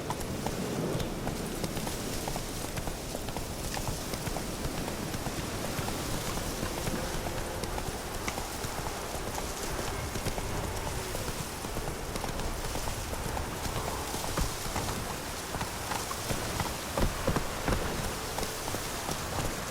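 Roach the horse gallops in The Witcher 3, a steady clip-clop of hooves running on and on under a constant wash of rain-like ambient noise, with no voices.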